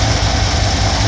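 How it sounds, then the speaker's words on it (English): A 1971 Ford F100 with a 302 small-block V8 idles rough on a lean carburetor mixture, a loud, close, steady low rumble with uneven pulsing throb. "leaning it out until the engine starts running rough"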